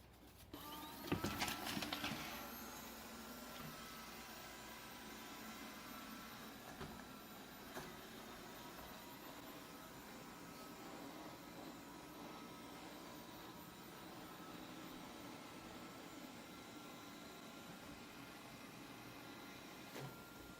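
A TAB automatic robot vacuum cleaner with 2200Pa suction runs with a faint, steady whirring hum, after a brief louder bump at the start.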